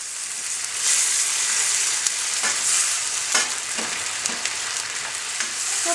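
Chicken and yogurt sizzling in a pan, a dense continuous hiss of frying with a few faint clicks of stirring, steady and close, no voices.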